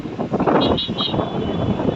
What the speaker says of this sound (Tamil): காத்து அடிக்குது